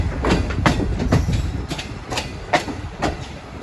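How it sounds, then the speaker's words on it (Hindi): Express passenger train pulling into Mandi Bahauddin railway station, its wheels giving a steady rhythmic clickety-clack over rail joints, moderately loud and close with no voices. "मंडी भावदीन रेलवे स्टेशन पहुंच रही है 12 डाउन सतारा एक्सप्रेस।"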